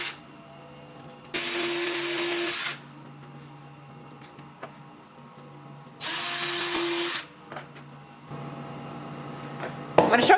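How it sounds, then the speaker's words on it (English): A power drill bores small holes in wood in two loud bursts of a couple of seconds each, separated by quiet handling noises, with a third quieter run near the end. "I'm just gonna start drilling little holes."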